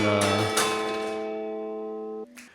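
A large church bell tolls with a rich, ringing tone that slowly decays, followed by another soft bell strike near the end; a recording of church bells.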